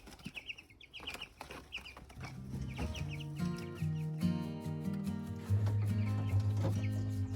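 Meat chickens cluck and chatter in a pen, scattered clucks at first, then a dense, steady flock murmur builds and grows louder toward the end.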